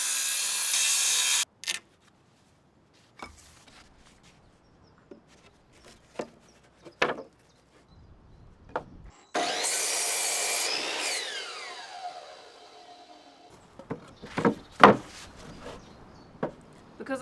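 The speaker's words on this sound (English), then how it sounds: "I just use my little portable saw and I make a lot of cuts along the wood so that I can scrape out the pieces with a chisel." Small portable hand saw cutting through scrap wood to make a series of cuts for a lap joint, heard as short scraping strokes and a longer sustained rasping burst, fairly close, with quiet pauses between.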